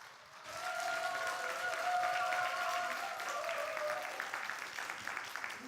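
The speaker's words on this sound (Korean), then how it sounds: "큰 박수로 맞아주시기 바랍니다." Audience applause welcoming a speaker at a Korean volunteer Ignite talk event swells in after a quiet start, then stays as a full, sustained clatter of many hands before gradually thinning out.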